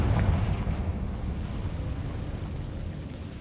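The Confringo fire spell in Hogwarts Legacy bursts as a heavy, booming explosion whose deep rumble rolls on and slowly fades across a few seconds.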